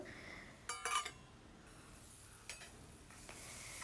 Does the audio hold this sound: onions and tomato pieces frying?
yes